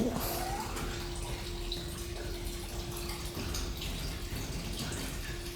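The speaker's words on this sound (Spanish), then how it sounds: "No sé si escuchan, pero está corriendo agua de ese lugar." Water runs steadily from old pipes in a tunnel beneath Santiago, with a constant hiss and a low steady hum underneath, fairly close.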